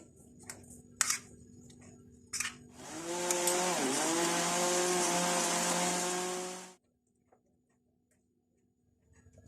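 Electric kitchen grinder churning soaked chana dal with water, a loud steady whir lasting about four seconds that dips briefly in pitch, then cuts off into near silence, with a few clicks before it starts.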